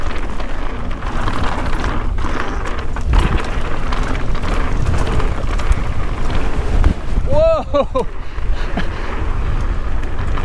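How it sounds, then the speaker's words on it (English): Strong gust of wind roars across the microphone on a Marin County mountain bike trail, a steady broadband rush lasting throughout, with a brief exclamation and chatter over it. "Big old gust of wind."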